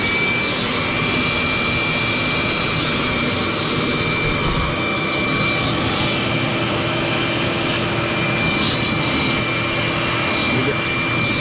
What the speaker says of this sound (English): I'm sorry, I know it's loud, I'm vacuuming and talking over it.